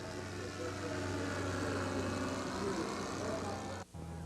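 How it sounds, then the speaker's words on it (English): A continuous drone from three O.S. four-stroke engines on a model Stinson aircraft, a steady hum at constant speed, briefly cutting out near the end before resuming. "has powered his aircraft with 3 OS4 stroke engines"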